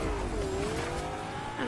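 A car driving in Fortnite Zero Build, a brief engine whine that rises and falls under busy game noise, fairly close.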